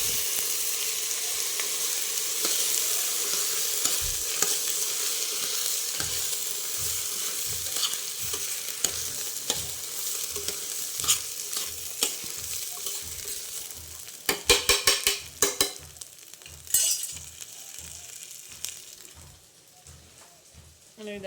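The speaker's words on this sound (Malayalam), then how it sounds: "ഇനി അതൊന്ന് ഇളക്കി കൊടുക്കാം" Prawn biryani is stirred in a frying pan over a steady sizzle, with a spoon scraping in regular strokes and a few sharp clinks of metal near the end.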